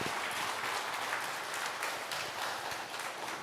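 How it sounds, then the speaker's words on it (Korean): A church congregation at a Korean Sunday afternoon worship service welcomes the preacher with full, steady applause, a dense continuous clatter of many hands heard alone. "우리 목사님 나오셔서 말씀 전하실 때 큰 박수로 맞이하겠습니다."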